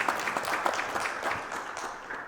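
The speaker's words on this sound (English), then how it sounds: "So a round of applause to welcome Her Excellency to the stage." An audience at a consumer protection knowledge series event in Ethiopia applauds to welcome a dignitary to the stage, a brief burst of dense, even clapping.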